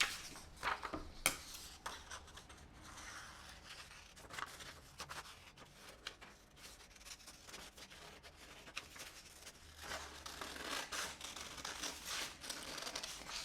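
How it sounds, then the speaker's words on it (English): Scissors snip along a drawn line through paper for a butterfly art cutout, giving a soft, steady crinkling and rasping texture up close, with gentle paper rustles throughout and no talking. "And now we cut on the line."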